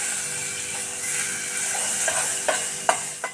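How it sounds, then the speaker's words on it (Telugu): Masala paste hitting hot melted butter in a pan for butter chicken, giving a steady loud sizzle with a few sharp spoon scrapes and stirring clacks near the end. "ఈ పేస్ట్ అంతా ఈ బటర్లోకి వేసేస్తామండి"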